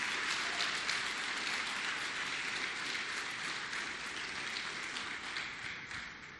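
A church congregation applauds in praise of Jesus Christ, a steady, dense wash of many hands clapping that fills the whole stretch and tapers slightly toward the end, with no voices standing out.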